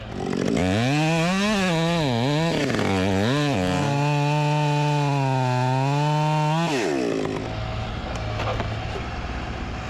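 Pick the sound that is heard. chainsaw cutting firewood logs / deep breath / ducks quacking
chainsaw cutting firewood logs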